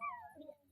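A dog lets out one faint, short whimper with a falling pitch while playing with a child. It sounds thin, soft and close, in an otherwise quiet moment.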